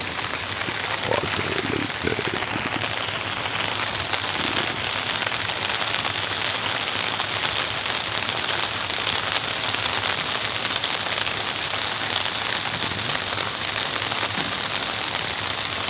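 Heavy rain pours steadily on surfaces, a dense constant hiss with scattered droplet taps throughout and no voices.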